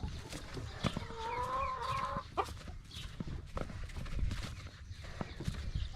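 Farmyard chickens cluck and call close by, with a drawn-out rooster-like crow near the start and scattered sharp clucks over a few seconds of outdoor background noise.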